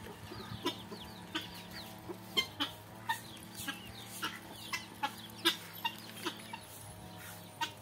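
Chickens cluck repeatedly at close range, sharp bursts in a loose rhythm over a low background hum.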